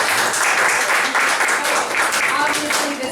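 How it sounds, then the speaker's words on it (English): An audience at a spoken-word evening applauds in a dense, sustained wash of clapping that carries on evenly throughout, with a few voices faintly mixed in. "Everybody clap up Joy one more time."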